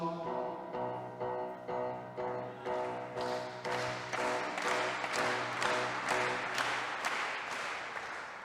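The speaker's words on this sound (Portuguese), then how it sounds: "Vão todos ter que bater palmas." At an Easter concert, the audience claps along in rhythm over sustained musical tones, the beat starting sparse and growing into denser, louder group clapping as the piece continues.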